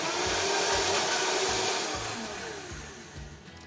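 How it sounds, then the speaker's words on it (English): A kitchen blender whirs loudly and steadily while blending garlic and other ingredients toward a creamy texture, a dense continuous motor roar with a rhythmic low chopping pulse that eases slightly toward the end. "go ahead and turn on the blender, and you're gonna blend it until it looks just creamy"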